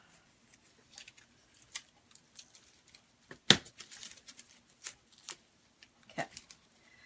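A knife cuts off material while a bee wreath is built on a pine base, giving soft scattered snips and rustles with one sharper crackling cut, close but faint.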